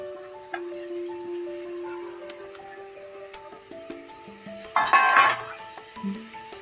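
Cabbage tipped into a pan of curry base, giving a short burst of sizzling and rustling about two-thirds of the way through, framed by light clinks of a utensil against the pan.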